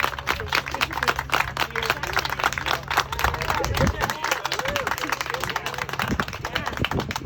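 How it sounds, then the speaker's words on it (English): Outdoor crowd at a mural unveiling in Berwyn clapping and cheering for the mural participants, a steady patter of many hands with whoops and voices mixed in throughout. "let's clap it up for them"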